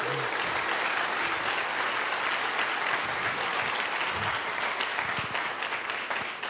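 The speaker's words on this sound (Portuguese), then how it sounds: "Pode aplaudir Jesus." A church congregation claps together in a sustained, dense round of applause that stays loud and even for several seconds, with faint crowd murmur beneath and a slight fade at the end.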